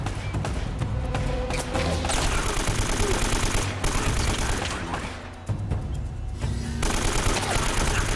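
Gunfire from the video game Uncharted: Drake's Fortune, dense sustained bursts of shots and booms filling the whole stretch, loud and close, with a voice faintly mixed in.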